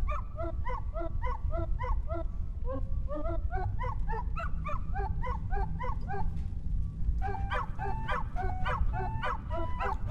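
A small dog in the Wandersong video game gives a rapid string of high, yippy synthesized barks and yips, evenly paced and fairly close, over a low background hum.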